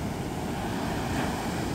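Pacific Ocean surf rolls onto a roadside beach near Orick, California, beside US 101, a dense continuous wash of breaking waves mixed with wind buffeting the microphone, loud and steady, with no voices.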